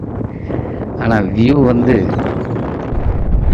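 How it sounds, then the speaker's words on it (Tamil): Strong, cold wind buffeting on a mountaintop, a constant roaring rush under a person speaking throughout. "காற்று பயங்கரம் பாருங்கள், என் முடி எப்படி ஆடுது பாருங்கள்."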